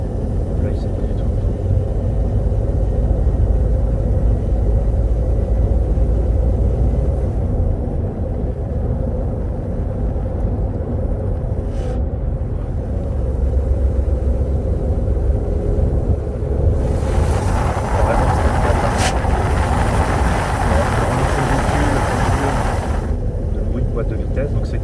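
A 2019 Seat Ibiza being driven, with gearbox noise carried in a constant loud road and engine rumble from inside the cabin; someone talks over it throughout.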